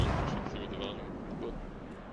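Mortar fire in the military shooter game Squad, a muffled, distant rumble of booming blasts that rolls on steadily without clear breaks.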